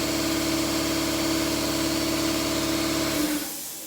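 An air compressor in a saw blade workshop hums with a steady, loud, motor-like drone and a fixed tonal whine, then shuts off near the end and quickly winds down to quiet.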